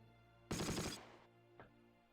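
Gunfire in the Close Combat war game: a dense, loud burst of rapid automatic fire lasting about half a second, then a faint, short single shot a moment later, with no talk.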